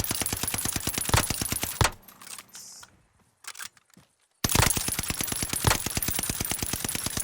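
Rapid automatic gunfire in Call of Duty Warzone Pacific on the Caldera map, dense close bursts that stop for a couple of seconds of quieter mechanical clicks and handling, then resume as a long sustained burst.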